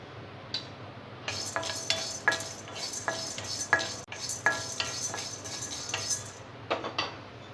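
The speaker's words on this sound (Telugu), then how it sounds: "1 స్పూన్ కందిపప్పుని డ్రై రోస్ట్ చేసుకోవాలి." Toor dal dry roasting in a pan, stirred with a spoon: repeated close scraping and clinking strokes against the metal in an uneven rhythm, with no talk.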